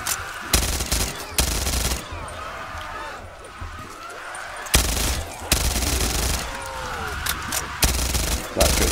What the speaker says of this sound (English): Let's get the Ghastly Reaper out. Sorry, it's a Grizzly Reaper, not a Ghastly Reaper.